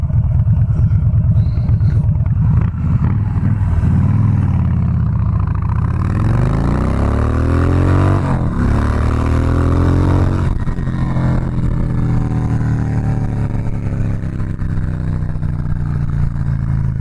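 A Harley-Davidson Softail Slim 103ci motorcycle accelerates hard from 0 to 60. Its loud, close engine rumble climbs in pitch through several gear changes, dropping briefly at each shift before rising again.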